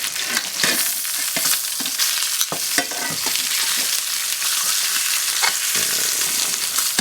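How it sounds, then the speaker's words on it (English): Marinated pork chops fry in oil in a pan, a loud, close crackling sizzle broken by sharp spits and pops, continuous and unaccompanied by voices. "So I'm going to cook these 4 minutes on this side."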